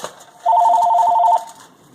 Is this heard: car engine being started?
no